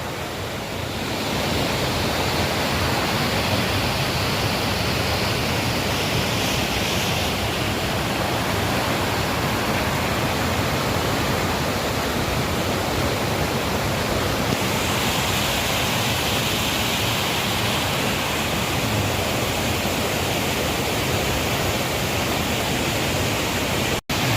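A waterfall at the nine-tiered falls in Ratchaburi pours steadily as a dense, continuous broadband rush, loud and close, with no talk over it.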